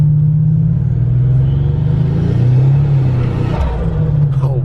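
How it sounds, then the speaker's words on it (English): A car accelerates hard with its turbo spooling, a loud, steady, close engine rumble rising in pitch under faint whooshing. "Here we go. Listen to the turbo."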